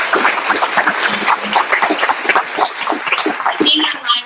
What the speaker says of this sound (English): So I would like for you to give him a big applause.